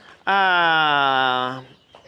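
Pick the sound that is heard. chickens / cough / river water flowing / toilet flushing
chickens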